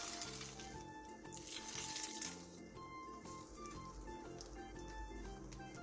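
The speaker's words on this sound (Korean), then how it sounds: "팬에 기름을 두른 뒤 분홍 소세지를 올려 중약불에서 앞뒤로 노릇노릇하게 부쳐주세요" Pink sausage slices fry in an oiled pan over medium-low heat, giving a steady faint sizzle and crackle with soft pops throughout.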